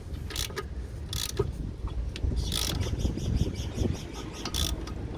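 Bolts tightened on a Golf 4 steering knuckle, with a run of close ratcheting clicks and metallic rattles in short bursts over a quiet workshop background.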